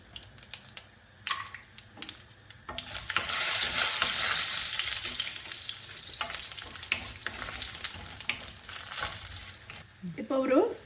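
Cashew nuts fry in oil in a pan while being stirred, with scattered clicks and stirring taps at first, then a strong steady sizzle that swells and holds until the end.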